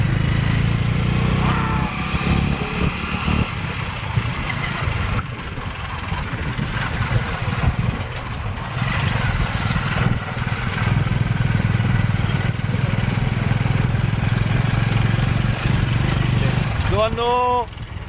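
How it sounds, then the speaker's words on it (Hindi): A tractor engine runs steadily in a field in Haryana during the harvest season. It drones on continuously and fairly loud for the whole stretch, with outdoor background noise and a brief chirping sound near the end. "ट्रैक्टर दिखा दिया।"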